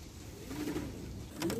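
A domestic pigeon in a loft coos softly from close by. Two low, rounded coos come about a second apart over a steady background hum.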